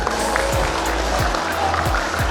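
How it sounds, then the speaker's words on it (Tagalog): Applause from a company Christmas party crowd, dense continuous clapping filling the clip at fairly loud level, with low thumps recurring underneath. "Palakpak"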